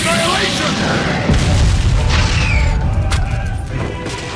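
A fire-style annihilation jutsu explosion from an Aizen versus Madara fight: a loud, sustained roaring blast with crackling bursts and a heavy low rumble that swells midway, then slowly fades.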